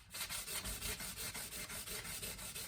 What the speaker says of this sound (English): everybody's favorite 320 grit sandpaper. This is the first pass on the fret ends.